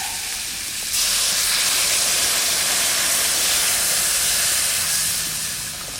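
Water poured into a hot pan of village-style rui fish curry with potato, turmeric and chilli sets off a sudden loud hiss of steam that holds steady for several seconds before easing off slightly.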